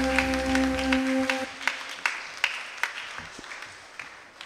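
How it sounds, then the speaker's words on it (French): Students clapping at a thanksgiving Mass, sparse and uneven with scattered individual claps after a held sung or organ-like tone fades out at the start. "Chers élèves, je vous demande de l'applaudir chaudement."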